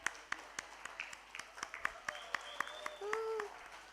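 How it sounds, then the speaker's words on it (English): Sparse, scattered clapping from a small crowd at an outdoor Miss World Bangladesh ceremony, with separate claps at an uneven rhythm, while voices and a whistle-like tone sound in the background. "Please give a huge round of applause,"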